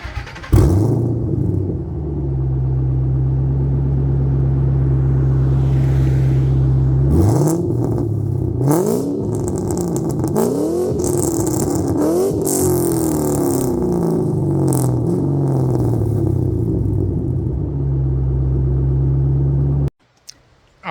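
A 2009 Ford Mustang GT Premium V8 with only an X-pipe and mufflers idles with a deep, steady rumble, then is revved in several sharp blips before settling back to idle and cutting off abruptly near the end.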